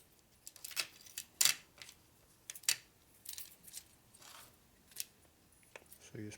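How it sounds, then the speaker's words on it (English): Cheap scissors snipping material during a 1961 Harley-Davidson Sportster XLCH transmission and motor rebuild, a series of quiet, close, irregular sharp clicks and cuts with no talking. "Okay, we got my cheap scissors."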